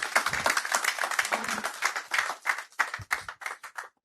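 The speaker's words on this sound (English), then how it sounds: "We can make that round of applause louder." Audience applause after a keynote address at a construction and real estate outlook conference, a moderate crowd clapping in a choppy, uneven rhythm that gradually thins into scattered individual claps.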